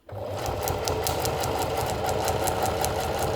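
A sewing machine runs fast and steady, its needle stitching in a continuous close-up whirring drone with a rapid mechanical chatter and no pauses.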